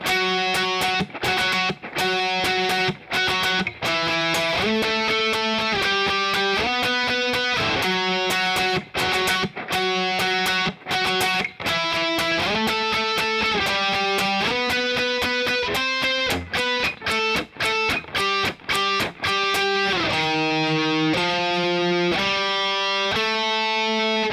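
Distorted electric guitar plays the bridge of a song, a loud, continuous run of gritty chords and melodic notes with brief choppy breaks, no voices.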